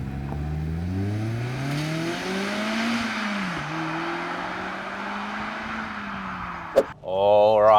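A 2023 Mazda MX-5 RF driven normally on the road, its engine droning and climbing through gears with audible shifts, a sharp knock, then a final rev at the end.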